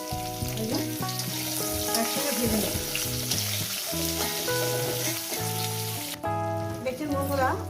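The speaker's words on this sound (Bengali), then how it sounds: "একদম সফট টমেটোটাকে ভেজে নেব নরম করে" Chopped tomato and green chilli frying in oil with garlic in a pan, a dense, constant sizzle with occasional stirring, heard under steady background music.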